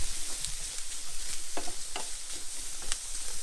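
Fennel sizzling in a hot dry pan with no oil, a close steady crackle with scattered sharper pops and a few stirring scrapes, no talk over it.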